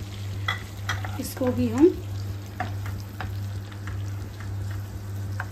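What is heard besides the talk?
chopped onion frying in hot butter and oil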